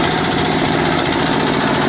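A Giriraj nano power tiller, a small 5 HP farm cultivator, runs with a steady, loud, close engine drone and vibrating rattle, alone without talk.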